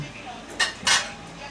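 Soybean curry stirred in a metal pot, two short clinking scrapes of a spoon against the pot over a quiet background.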